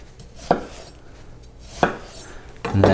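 A knife chops through watermelon on a cutting board, with a few sharp, close thunks spaced roughly a second apart and a brief clatter at the end.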